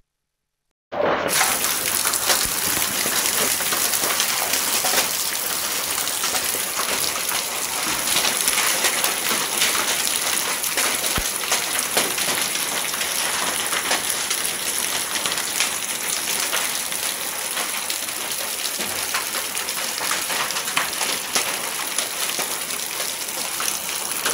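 Hailstones fall with rain in Hooghly, starting abruptly and then pounding as a loud, dense, unbroken clatter and hiss that holds steady for over twenty seconds.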